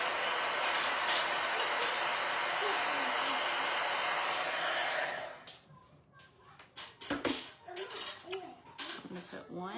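A hair dryer blows steadily and loudly at close range, drying paint on wooden biscuits, then cuts off about halfway through, leaving light handling clatter and quiet movement.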